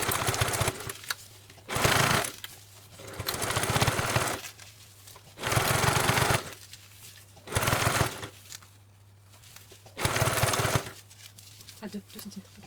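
A sewing machine stitches a round fabric basket in short bursts, each a dense whirring run of about a second, separated by pauses with faint background hum, repeating five times at close range.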